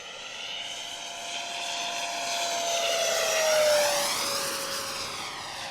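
A T-33 model jet roars at full throttle, its whine sweeping and swelling as it passes nearby, peaking loudest midway before easing off.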